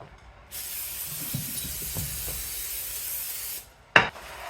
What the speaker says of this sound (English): So the first thing we need to do is probably spray this pan.